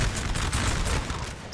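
Massed musket volleys against skirmishers in a Napoleon: Total War 4v4 battle crackle and rumble continuously as a dense, loud fusillade with no gaps.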